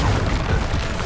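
A Bombarda spell explodes in Hogwarts Legacy, a loud, dense, rumbling boom that fills the whole short moment without a break.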